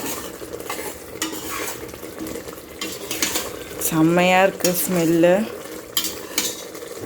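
Mint rice masala is stirred and fried in a pan, with a spoon repeatedly scraping and clattering against the metal over a soft sizzle, while someone speaks briefly in the middle.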